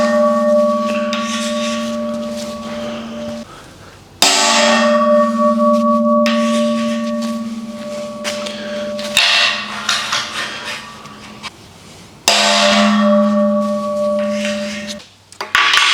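Hammer blows punching marks into rusty steel for a ranch-style entryway weld job, struck in a few sharp, loud ringing hits with pauses between, the metal ringing on after each strike.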